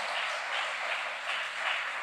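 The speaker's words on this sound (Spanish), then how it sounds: "Denle un aplauso a Dios." A church congregation applauds during a sermon, giving a soft, sustained wash of many hands clapping together, heard at a distance and fairly quiet, without speech.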